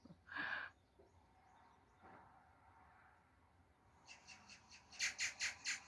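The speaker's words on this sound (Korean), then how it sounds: "까치가 아침부터 아주 두 마리가 서로 마주 보면서 웃고 있네요." Two magpies call from a distance in a quiet early-morning setting in Samcheok, South Korea: one harsh squawk, then a quick run of rattling chatter.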